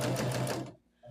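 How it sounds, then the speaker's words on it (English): A sewing machine stitches a quarter-inch seam on a quilt block in a short, rapid mechanical whir that cuts off abruptly, followed by a moment of quiet and a faint restart. "I'm just going to sew a 1/4 inch on either side"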